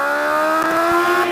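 A 2019 Kawasaki H2 Carbon motorcycle pulls away from a light in first gear, its engine a loud, close, rising tonal drone.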